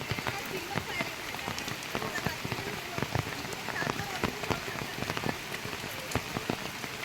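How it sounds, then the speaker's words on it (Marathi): Heavy monsoon rain pours down steadily in the Konkan in July, a dense hiss of drops with sharp nearby splats drumming on surfaces throughout. "असं बघता बघता खूपच पाऊस मोठा पडला आहे कोकणामध्ये"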